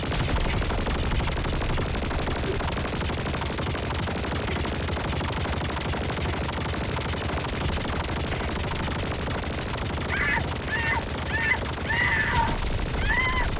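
The Sickle weapon in the video game Helldivers 2 firing without pause, a dense unbroken roar of rapid energy shots, loud and constant, with a few higher chirping tones near the end.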